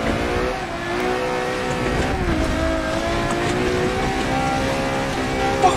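A Mercedes CLK GTR race car in Forza Motorsport 7 accelerates hard at full throttle, with a loud, steady engine howl whose rising harmonic tones run continuously throughout.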